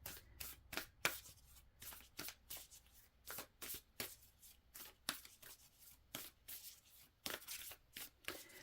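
Oracle cards are shuffled and pulled from a deck, giving a run of quick, crisp papery riffles and slaps at an irregular rhythm, close and soft, with no talking.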